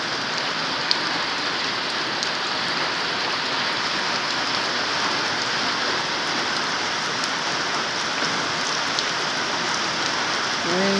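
Steady rain falls on surfaces as a dense, even hiss with faint scattered drip ticks, unbroken and alone throughout.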